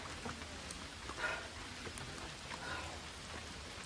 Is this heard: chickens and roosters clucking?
no